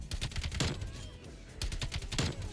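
AK rifle gunfire in Call of Duty multiplayer: rapid automatic bursts, loud and close, with two clusters of shots separated by a short pause.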